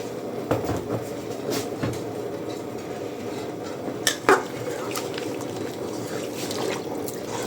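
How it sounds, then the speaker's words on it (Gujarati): Hot water from a kettle splashes steadily into a metal pot for prawn biryani, broken by a couple of sharp clanks of the vessel against the rim. "આપણે પાણી નાખી દઈએ એમાં ગરમ પાણી લીધું કેટલનું"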